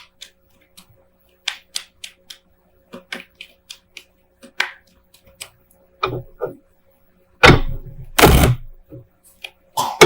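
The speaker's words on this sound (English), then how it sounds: "So let me just shuffle here and we'll pull a few clarifying cards." Tarot cards are shuffled and handled in sharp, irregular flicks and taps, ending in a few louder riffling bursts, close by with no talking.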